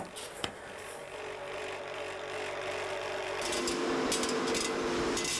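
A jigsaw hums steadily, growing louder and busier near the end, with mechanical rattling and whirring throughout.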